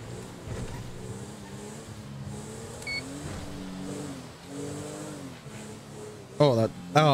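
A wrecked car's damaged engine in the GTA 5 video game drones low and uneven, rising and falling throughout, with a short beep near the middle and a burst of louder sound at the end.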